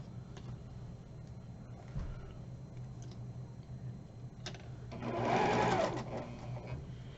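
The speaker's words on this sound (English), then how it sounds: "we're going to sew a 1/4 inch on either side of the line." Sewing machine running a quarter-inch seam on quilt fabric, a soft steady mechanical hum with faint ticking, swelling briefly louder near the end, recorded close in a quiet room.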